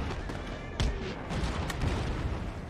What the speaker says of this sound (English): because the cannons were so close to just ripping that entire line